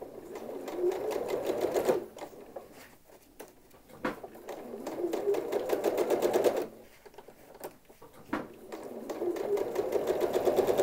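A sewing machine fitted with a walking foot stitches straight vertical quilting lines across a gridded quilt, its steady rapid motor hum running in long bursts with brief pauses between rows.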